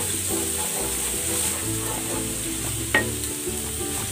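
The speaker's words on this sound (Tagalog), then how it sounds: "Magigisa na ako ng bawang." Garlic sautés in a pan with a close, steady sizzle and crackle, broken by a sharp utensil tap near the end.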